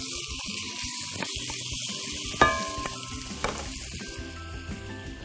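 Chicken pieces drop into a hot oiled pan and sizzle loudly and continuously, with a couple of sharp clanks from a utensil stirring and scraping the pan, close up and free of speech.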